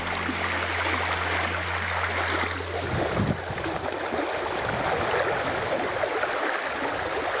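A shallow river stream about a metre deep rushing with a strong current, a steady close and loud wash of flowing water throughout with no talking.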